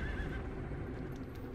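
Horse neighing in The Legend of Zelda: Breath of the Wild, a short whinny with clip-clop hoofbeats close and clear over a low background rumble.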